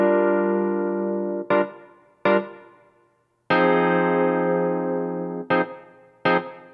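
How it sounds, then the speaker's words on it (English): Whirly electric piano from a Korg Triton plays alone in a funky Y2K house track, with sustained chords and short stabs that decay, clear and fairly loud with a slight wobble. "So first thing I have here from the Korg Triton is the whirly electric piano here."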